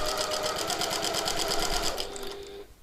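A sewing machine stitches through several layers of fabric on a piped-pocket tote bag, a fast, steady run of close mechanical stitches that slows and stops near the end.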